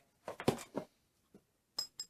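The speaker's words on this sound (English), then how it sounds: "Glass. I'm going to hold that carefully." Glass skincare bottle and its parts clink in several light, sharp taps while being handled, with short bright clicks and a pause before two final higher tings; no talking.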